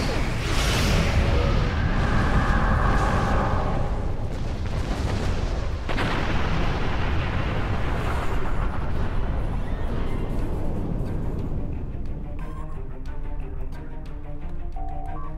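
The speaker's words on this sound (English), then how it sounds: "Fire all weapons." Starship weapons fire and explosions in the video game Star Trek Online form a dense, continuous roar of blasts and booms that stays loud throughout, with no speech.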